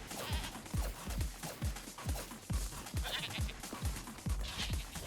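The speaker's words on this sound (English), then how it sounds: "the sheeps are so fucking pissed at me" Angry sheep bleating in the video game Tokyo Jungle, a rapid, repeated series of short bleats from several animals, close and loud over a busy game background, with faint talk now and then.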